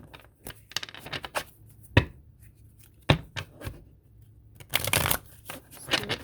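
Tarot cards being shuffled by hand in irregular bursts of riffling and sharp slaps, close and fairly loud, with quiet gaps between.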